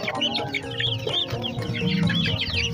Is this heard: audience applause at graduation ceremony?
no